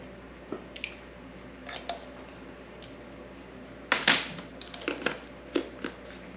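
Fresh garlic crushed for a porterhouse steak marinade, heard as a few scattered soft crunches and squishes, close and fairly quiet, with a denser cluster of sharp crushing clicks near the middle.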